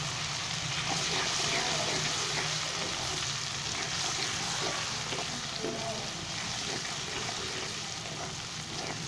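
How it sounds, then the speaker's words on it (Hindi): Garlic frying in a pan for an apple gourd curry, giving a steady, close hiss and sizzle that runs without a break. "जितनी देर में लहसुन का कच्चापन ख़त्म होगा उतनी देर में मैं इसको अच्छे से भून लेता हूँ"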